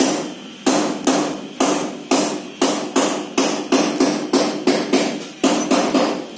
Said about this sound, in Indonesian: Maaf berisik ya, suara getok-getok.